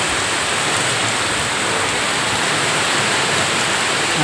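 Flood water rushing in a dense, continuous roar, loud and steady throughout with no breaks and no voices.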